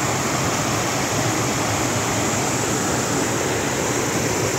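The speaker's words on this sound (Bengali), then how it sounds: "বসে বসে খানিক নদীর আওয়াজ আর ঝিঝি পোকার ডাক শুনলাম" A river flows through a forest in Binsar, Kumaon, as a dense, steady roar of rushing water, constant and close, with no voices.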